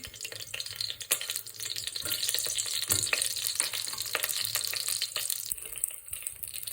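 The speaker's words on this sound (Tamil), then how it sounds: "அதை போட்டுட்டு இந்த கடுகை வெடிக்க விடுறேன்." Dense crackling and spitting sizzle of mustard seeds popping in hot oil, steady and close, with occasional sharper pops throughout.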